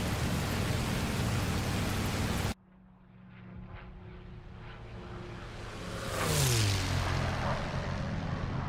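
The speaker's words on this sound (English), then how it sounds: "And we will do a landing in the P-51." A P-51 Mustang piston engine in DCS World drones steadily after a loud broadband rush cuts off, then rises and falls in pitch as power changes during landing, with a rushing wind-like layer throughout.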